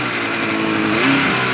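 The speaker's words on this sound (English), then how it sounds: "I'm kind of manhandling and using throttle control to get the front of my sled downhill." A snowmobile engine revs hard under steady throttle, a loud, continuous buzzing drone that swells slightly toward the end of the short burst.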